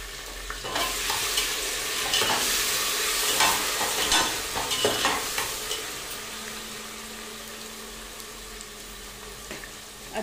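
Ginger and garlic hit hot oil with whole spices and cumin in a pot, a steady sizzle and frying hiss with some stirring scrapes, moderately close and fairly quiet.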